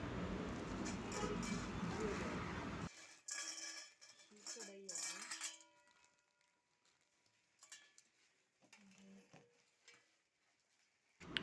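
A steel kadai and its steel lid are handled, giving a few metallic clinks and knocks after a stretch of broad noise, with quiet pauses between.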